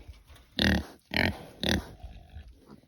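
Pigs on an off-grid homestead give three loud, close, raspy grunts in quick succession, followed by softer snuffling noises.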